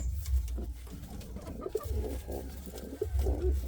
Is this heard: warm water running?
no